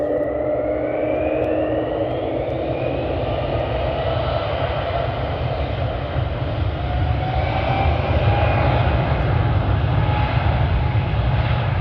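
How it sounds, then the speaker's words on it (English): A Boeing 777 jet airliner takes off with a loud, sustained engine roar and rising whine, the deep rumble holding steady and close throughout. "Here we got the Boeing 777."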